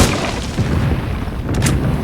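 Rocket explosions in PUBG Mobile, a loud continuous rumbling blast with deep booming and crackling debris, close and dense across the whole stretch, no voices.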